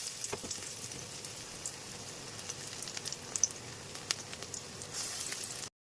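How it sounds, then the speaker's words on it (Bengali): Lentil fritters deep-fry in hot mustard oil in a wok, a soft, steady bubbling sizzle with a few sharper pops before it cuts off at the end. "কড়াইতে তেল গরম হয়ে গেছে, সর্ষে তেলই দিয়েছি। এইবারে এক একটা করে বড়া ভেজে নেবো।"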